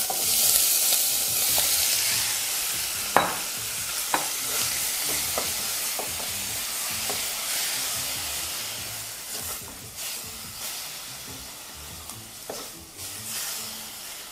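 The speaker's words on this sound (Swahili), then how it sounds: "Tayari tumeweka sufuria yetu jikoni kwa ajili sasa ya kupika hii nyama ya kusaga." Minced beef fries in a little cooking oil in a pot on the stove, giving a steady close sizzle and hiss broken by irregular scrapes and knocks of stirring, with nobody talking.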